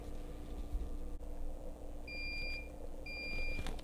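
Two short electronic beeps from a travel milk frother signalling it is done, evenly spaced about a second apart, over a low steady hum.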